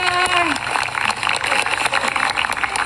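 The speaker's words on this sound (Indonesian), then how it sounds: "Tepuk tangan lagi yang meriah" Audience applause at a school gathering with a provincial governor and a minister, dense clapping filling the hall over a steady crowd murmur, with a voice speaking briefly at the start.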